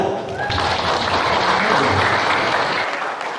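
A burst of dense crowd applause, loud and steady for a few seconds, with some voices mixed in before it tapers off.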